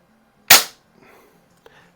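A single sharp, loud crack from an Umarex Zelos air pistol, followed by a faint click and small mechanical sounds.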